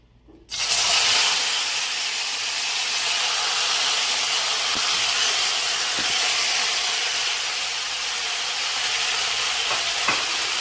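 Squid sautéing in hot oil in a pan, a loud, steady, broadband sizzle that starts abruptly and continues without break, close up, with faint stirring clicks underneath.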